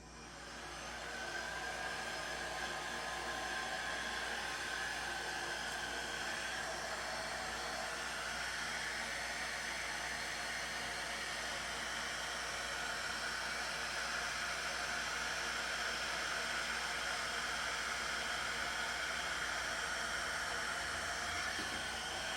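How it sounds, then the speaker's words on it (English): A hair dryer on low blows with a steady, even whooshing hum for the whole stretch over a paint pour on a vinyl record, no voices, holding a constant moderate level. "I'm gonna put my hairdryer on low because I want little blooms"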